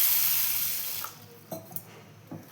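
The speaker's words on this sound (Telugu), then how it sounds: "ఈ మినపప్పుని ఒక గిన్నెలో వేసుకొని నీళ్లు పోసుకొని బాగా కడుక్కోవాలి" Water pours into a bowl of black gram dal, a splashing rush that fades out, followed by a few soft drips and sloshes.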